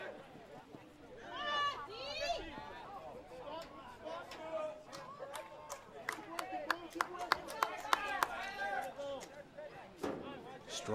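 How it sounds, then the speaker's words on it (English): Spectators cheer for the Waconia Wildcats at a boys' high school soccer game, a steady crowd babble with scattered claps, shouts and whistles heard from a distance, swelling in bursts. "Strong cheering section here for the Waconia Wildcats. You might be able to pick that up on the microphones."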